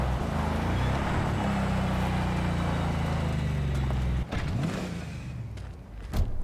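Car in the video game Cyberpunk 2077 driving off-road, a steady loud engine drone and rumble with a couple of thuds and bumps near the end, no talking.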